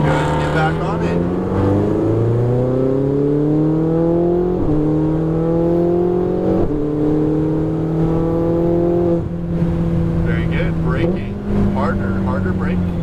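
Ferrari 488 GTB on a race track, its engine pulling up through the revs in repeated rising sweeps broken by quick shifts, loud and close from inside the car.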